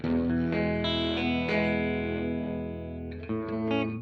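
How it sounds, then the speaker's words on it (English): Sustained guitar chords pass through an EHX Stereo Pulsar Nano stereo tremolo in ping pong mode, throbbing side to side, close and loud, with a fresh chord struck near the end and no voices. "That's what we often call kind of a ping pong sound"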